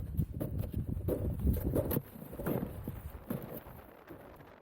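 Biting northerly winter wind on a snowy summit: continuous rough buffeting that rumbles against the microphone in uneven gusts, loud at first and easing toward the end, with no voices.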